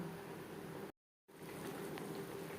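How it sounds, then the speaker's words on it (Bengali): Fried eggplant simmering in a vegetarian begun bahar gravy with oil and spices: a soft, steady bubbling and sizzle, quiet and continuous, broken by a brief moment of silence. "3-4 মিনিট ফুটিয়ে নেব গ্রেভির সাথে তেল মশলা ঢোকার জন্য"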